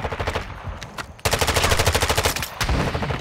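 Gunfire in Call of Duty: Modern Warfare 2 on the Black Gold map: rapid automatic bursts of rifle or machine-gun fire, a brief pause, then a longer sustained stream of shots, loud and close, with no talk.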